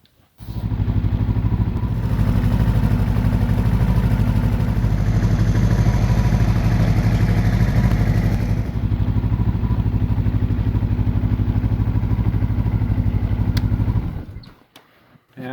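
A snowmobile engine runs at a steady, loud idle close by for about fourteen seconds, its exhaust pointed at a frozen rewind to thaw the ice, with a faint clatter throughout before it cuts off abruptly.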